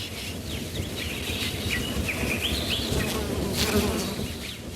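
Insects carrying pollen buzz around flowers, a steady close hum of bees or flies with wavering whines passing by, and faint bird calls in the background.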